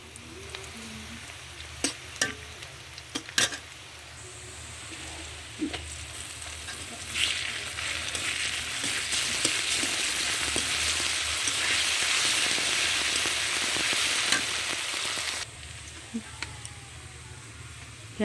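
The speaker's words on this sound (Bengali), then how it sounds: "পেঁয়াজ রসুন আদা মশলাটা ভাজা হয়ে গেছে" Onion, garlic and ginger paste masala sizzling in a pan for a chicken curry, a steady frying hiss that swells loudly midway with intermittent sharp clinks of stirring.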